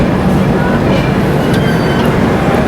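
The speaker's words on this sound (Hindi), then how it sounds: "ये देखो खड़ी है लेजेंडरी लखनऊ मेल और ये खड़ी है सुपर फास्ट" Indian passenger trains standing at Lucknow station, including the Lucknow Mail, give a steady, loud rumble of engines and station noise with no distinct pauses or voices.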